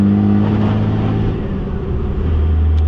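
A truck engine pulls hard while driving and merging into traffic, a loud continuous rumbling drone from inside the cab that shifts in pitch as it accelerates.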